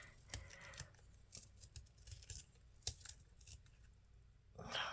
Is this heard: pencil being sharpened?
yes